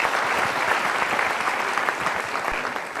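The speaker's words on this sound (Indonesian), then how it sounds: "Tepuk tangan." An audience bursts into sustained applause, an even, hissing roar of many hands clapping at moderate volume for the whole stretch, with no voices standing out.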